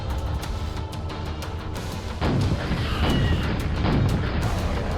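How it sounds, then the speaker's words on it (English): Rocket launcher explosions in Quake: rapid clicking shots give way to heavy, rumbling blasts that swell and stay loud through the rest of the stretch, with no talk. "And send rockets at the VORE."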